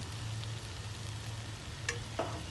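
Green chillies sauté in a pan with a steady, soft sizzle and crackle that runs unbroken throughout, plus a couple of faint clinks of a utensil stirring.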